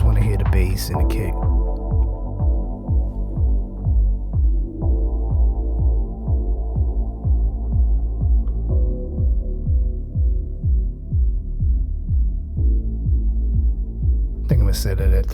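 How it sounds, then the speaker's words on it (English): Bass and kick drum soloed through a Brainworx bx_XL V2 limiter, a steady thumping kick pulse under a sustained low bass line, with brief fuller bursts at the start and end. "I just want to hear the bass and the kick."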